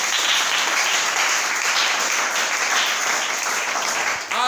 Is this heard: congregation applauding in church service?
yes